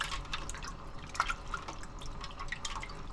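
A fresh sea cucumber is rinsed in seawater, giving quiet, close splashes and scattered drips in an irregular rhythm.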